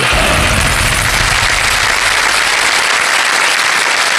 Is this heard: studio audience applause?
yes